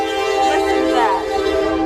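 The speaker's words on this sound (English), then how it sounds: "There's a train. That is so loud." A loud train passes close by and echoes through a valley, its sustained horn-like tone and rumble filling the moment.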